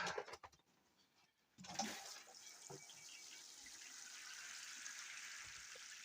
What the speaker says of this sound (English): we'll give him a bit more water